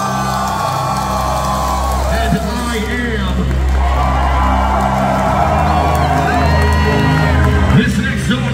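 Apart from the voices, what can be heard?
concert crowd applauding and cheering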